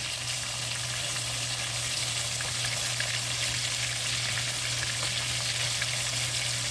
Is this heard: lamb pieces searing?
yes